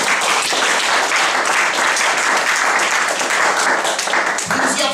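A church congregation applauds loudly and steadily throughout, a dense, continuous wash of clapping from many hands that fills the room without a break.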